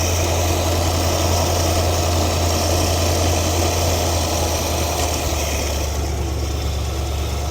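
A 1973 Ford Econoline E200 engine idles steadily with the choke open after a carburetor clean and tune-up, giving a continuous low, even hum with faint vibration and no talk.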